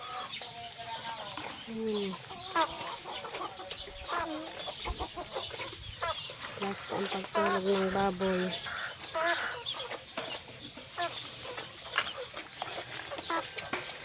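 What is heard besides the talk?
chickens clucking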